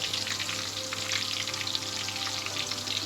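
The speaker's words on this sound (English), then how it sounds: "I'm going to fry this for another 5 minutes yet." Chicken lollipops fry in hot oil with a steady, even sizzle and light bubbling crackle, held close and constant for a few seconds with no talking.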